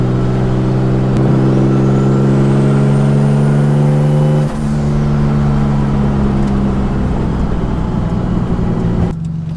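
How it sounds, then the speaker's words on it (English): A boosted Audi R8 with new coils revs hard and close, its engine note climbing steadily as the turbo spools quickly, then dropping back before rising again, loud and continuous throughout with no talking. "Talk about quick spooling."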